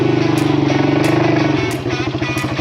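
A small 300 motorcycle engine strains under load, a loud, close, pulsing buzz that holds steady and then falters and sputters unevenly toward the end.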